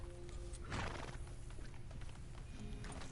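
A horse in a video game whinnies in a loud burst, then its hooves clop softly and steadily through the rest of the moment, over a humming background.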